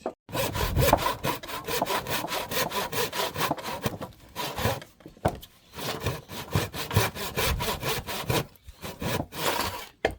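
Steady back-and-forth strokes of a handsaw cutting through wood while building deck stairs, close and loud, with a few brief pauses between runs of rasping strokes.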